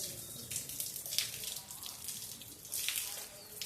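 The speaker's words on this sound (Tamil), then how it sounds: "வெளியிலேருந்து நல்ல மழை பெஞ்சிக்கிட்டு இருக்குங்க." Heavy rain pours outside in Madurai, heard as faint splashing and water runoff with irregular bursts of gushing, fairly distant and low in level.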